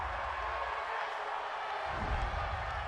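A home stadium crowd at an NFL game between the Indianapolis Colts and Pittsburgh Steelers reacts to a penalty call, a broad distant roar of voices that swells slightly toward the end.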